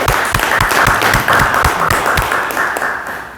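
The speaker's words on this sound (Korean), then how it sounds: "큰 박수 부탁드립니다." An audience applauds during a talk on healing. The clapping is brisk and close, with separate claps standing out, and it gradually fades away over a few seconds with no speech.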